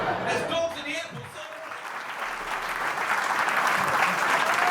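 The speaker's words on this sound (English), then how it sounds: "Come have a huge round of applause!" An audience at a stand-up comedy show breaks into sustained applause, a dense wash of clapping that builds and holds strong, with a voice briefly heard early on.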